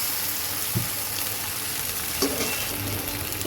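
Malabar spinach going into a pan of frying fish-head curry made with a catla fish head, with a steady loud sizzle and a couple of brief thumps and splashes as the greens land.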